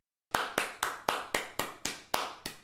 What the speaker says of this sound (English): We need some claps.